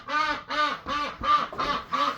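Six evenly spaced, fairly loud quacks from ducks in a farm barn, each call a short nasal burst with a steady rhythm and no voices over them.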